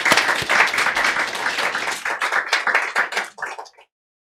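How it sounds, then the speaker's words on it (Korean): A church congregation applauds at a Sunday worship service, dense clapping from many hands that thins out and fades to silence after about four seconds. "박수 한 번 더 하겠습니다."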